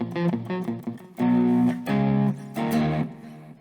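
A Nova Go Sonic guitar in distortion mode rings out on an open string, with several plucked notes followed by three sustained, buzzy distorted tones that swell and cut off in turn, loud and close.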